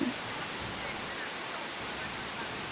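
Steady broadband roar of a waterfall at a family weekend recreation spot near Atambua, loud and constant throughout with no breaks, dense white-noise rush filling the scene.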